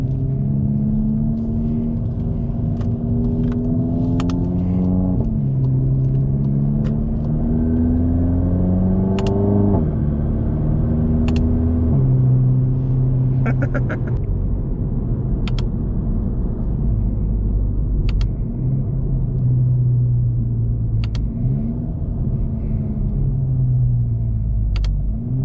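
A VW/Audi with a DSG gearbox and paddle shifters drives along a winding road, its engine rising and falling steadily through several quick gear changes, the drone close and continuous with no talk.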